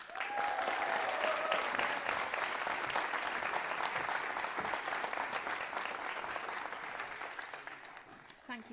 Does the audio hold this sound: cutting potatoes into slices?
no